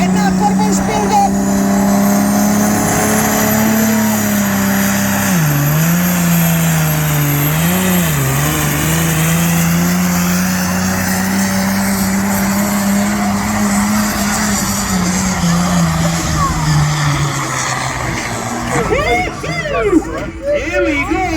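Turbo-built limited pro stock tractor at a Scottish tractor pull revs hard and steadily for about twenty seconds, a loud sustained engine drone with brief pitch dips, while a commentator talks over it.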